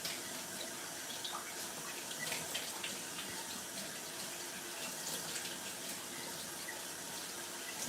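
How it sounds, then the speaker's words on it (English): A pan being washed under a running kitchen sink tap, a steady close splashing gush of water with faint clinks, no talk. "And cleaning my pan as I go."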